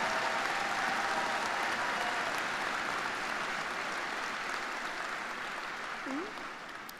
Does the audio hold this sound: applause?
yes